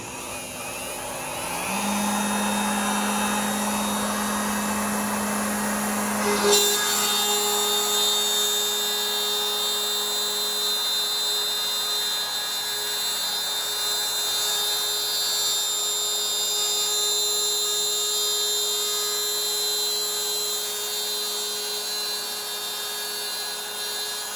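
A CNC router spindle cuts continuously with a loud, steady high-pitched whine and broadband roar, a vacuum running alongside, holding a constant level after a brief startup change.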